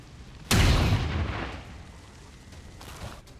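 A single heavy, booming gunshot aimed at a turret in XCOM 2 strikes sharply, then rolls off in a long rumbling decay over quiet game ambience, with a fainter thud following.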